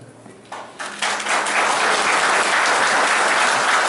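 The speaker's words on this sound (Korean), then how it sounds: "결의를 큰 박수로 동의해 주시기 바랍니다" Audience applause at a ceremony marking 500,000 elevators in South Korea, clapping building quickly from scattered claps into loud, sustained, dense applause from a large crowd.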